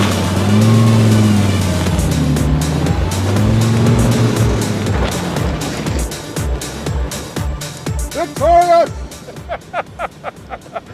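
A 2013 Volkswagen Beetle and a VW Eos convertible launch side by side in sport mode on a snowy surface, engines droning and rising loud and close, with people talking over the run and a burst of sharp clatter near the end.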